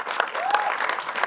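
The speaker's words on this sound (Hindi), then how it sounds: "उनके लिए मैं एक जोरदार तालियां सुनना" Audience applause at a film trailer launch honouring a rally champion, a steady dense clatter of many hands clapping throughout, close and fairly loud with crowd noise.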